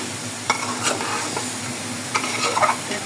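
Vegetables and potatoes frying in a pan, a dense steady sizzle close up with a few stirring knocks and scrapes over it.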